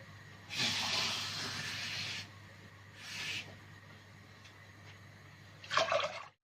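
About two cups of water poured into a pot of chicken broth for Saudi chicken kabsa rice, heard as a couple of rushing, hissing pours close by with short pauses and no speech.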